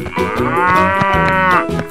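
A single sustained cow moo, loud and close, held for nearly two seconds over a rhythmic musical backing.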